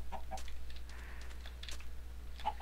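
A chicken clucks in Minecraft, a few short soft clucks scattered among faint clicking keyboard sounds, quiet and close.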